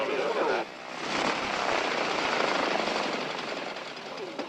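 A T-41 trainer airplane's engine drones steadily and loudly from nearby, a broad rumbling whine that holds for several seconds, with a voice briefly audible at the start.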